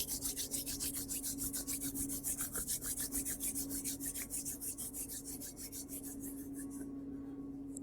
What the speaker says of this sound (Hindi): दोनों हाथों को रब कीजिए।